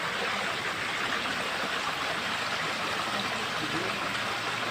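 Water flowing through an underground river passage, a steady dense rushing wash with no pauses, loud and close.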